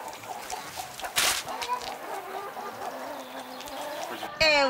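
Village chickens in Croatia cluck and murmur in a steady, close chorus, with a sharp squawk partway through and another burst near the end over faint background noise.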